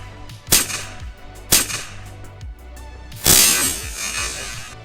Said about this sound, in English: Basically all that happens is that it goes pop, the bolt will just move back a little bit